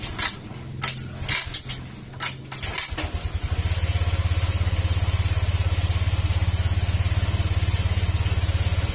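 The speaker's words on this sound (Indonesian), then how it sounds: "Motor sudah nyala dan motornya bersuara halus dan sudah tidak lagi ngebul." A Honda Vario scooter engine is kick-started a few times with clattering attempts, then catches and settles into a smooth, steady idle close by, no longer smoking.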